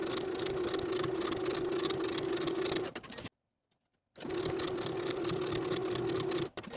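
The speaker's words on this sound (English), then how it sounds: "Then we're going to understitch this pocket." A sewing machine understitches a cardigan pocket to its seam allowance, running in a steady close whir for about three seconds, pausing in near silence, then starting again in a second run of the same length.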